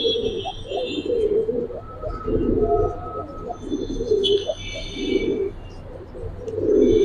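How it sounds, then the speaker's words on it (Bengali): Pankhi pigeons coo in a loft, several low repeated coos overlapping in uneven bursts, fairly close and loud, with soft background rustle and no talking. "চোখা শেপের এক জোড়া পাঙ্খি কবুতর।"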